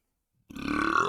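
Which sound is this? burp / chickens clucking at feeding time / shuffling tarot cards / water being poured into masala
burp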